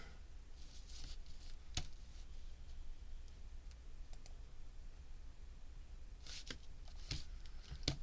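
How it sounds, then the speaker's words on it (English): Tarot cards are shuffled with quiet, scattered riffling clicks and soft taps in bursts against a low background hum. "10 shuffles, first card in."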